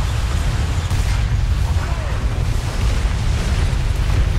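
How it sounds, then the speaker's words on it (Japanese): Tank cannon fire and a blast in the War Thunder video game, a loud, sustained low rumbling boom that fills the whole stretch with dense, steady energy and no clear separate shots. "ここぞとばかりに火を吹く戦車砲。"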